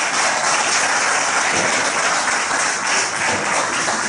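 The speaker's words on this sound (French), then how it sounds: "Je vous prie de l'applaudir très fort." Sustained loud applause from an audience at a coronation ceremony, dense and steady throughout with no speech over it.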